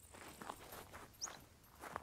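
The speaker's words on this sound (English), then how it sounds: "I hear footsteps outside where I am, which is not good." Footsteps in the survival game SCUM, a few soft, faint steps spaced irregularly over two seconds, quiet and somewhat distant with no talk.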